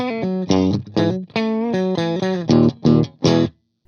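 Gibson SG electric guitar on a clean tone with both humbucker pickups selected, close and fairly loud: sustained chords and picked notes, then a few strong strums before the sound cuts off at the end.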